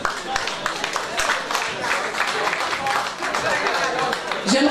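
Dense, steady applause from an audience at a dinner gala and fashion show of an African cultural festival in London, greeting Miss Cameroun France 2016 with continuous clapping that fills the room at close range.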